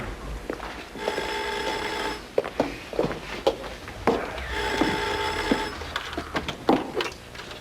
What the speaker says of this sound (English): Oh, yeah, it is. So go answer it.